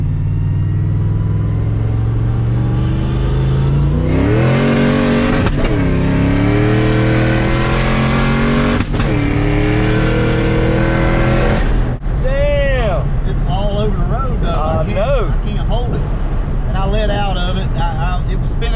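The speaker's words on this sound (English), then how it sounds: "We're gonna take off in second gear, and I'm gonna see if I can keep it in boost in third." A turbocharged car engine revs hard and climbs through gears under boost, launching in second, with a loud whine rising and dropping at each no-lift shift, and voices talking over it.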